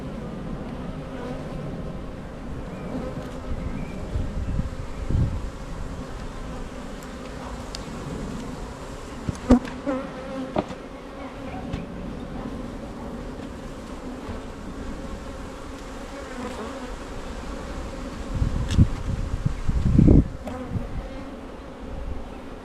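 A honey bee swarm hums steadily at a hive during an inspection, a dense continuous buzz up close with a few louder passes of individual bees and occasional handling knocks.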